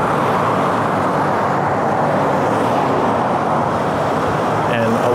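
Steady traffic noise rolls along a busy main road in Japan, a continuous broadband rumble of passing cars with a voice talking faintly beneath it.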